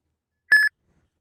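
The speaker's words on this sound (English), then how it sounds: "Your phone will start beeping, and the screen will flash." A single short electronic beep from an Uber driver app signalling a trip request sounds once in silence, clean and fairly loud.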